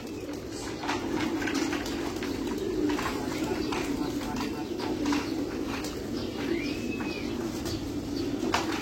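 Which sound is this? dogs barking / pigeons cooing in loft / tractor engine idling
pigeons cooing in loft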